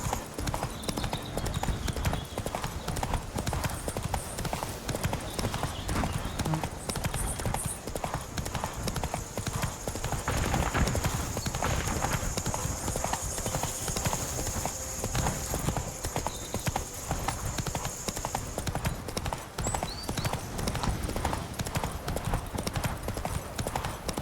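Roach the horse's hooves clip-clop steadily and near for the full stretch in The Witcher 3: Blood and Wine, a continuous rhythmic trot over ambient game sound, with a brief whinny possible and no talk.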